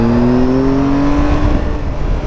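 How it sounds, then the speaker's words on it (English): Triumph Tiger 1200 XRT motorcycle engine revving with a rising tone, loud and close and heard alone. "Give it some revs so my wife knows that she needs to hang on for a second"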